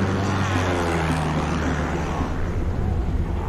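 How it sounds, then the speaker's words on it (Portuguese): Low-flying airplane roars steadily overhead, a loud, unbroken engine drone with a deep rumble that holds for the whole stretch. "É um avião!"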